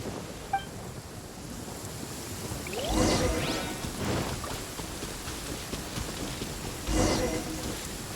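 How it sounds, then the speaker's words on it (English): Steady rain falls during a lightning storm in Genshin Impact, a continuous hiss with a couple of louder rumbling swells, played as a constant backdrop. "Uh-oh! Lightning storm!"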